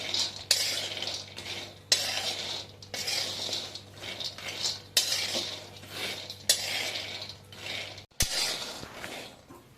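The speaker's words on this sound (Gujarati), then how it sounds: "બી આપણે આવી કડાઈમાં શેકવાના, એટલે બહુ બરે નહીં અને ફોતરી ઉખડે એટલા જ આપણે બી શેકવાના છે" Peanuts dry-roasted and stirred in a kadai, a close, repeated scraping and rattling of nuts against the pan in strokes about every second or two, with no talk.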